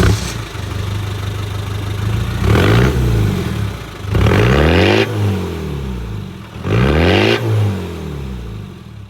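A 1990s Land Rover Defender's engine runs steadily at the rear exhaust, with three loud revs rising and falling over a rough, throbbing idle. Each burst lasts about a second, and the engine sounds close.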